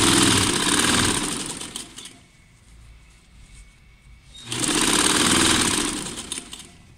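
A sewing machine stitching along a seam of a jacket with a zip: a steady, close whirring drone that eases off into a quieter stretch for about two seconds, then runs at full speed again, with no talk.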